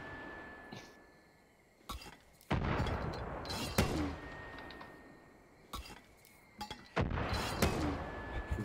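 Far Cry 5 combat: loud bursts of explosions and gunfire hit in clusters, with sharp blasts and clattering debris around a steady background hum, and quieter stretches between the volleys.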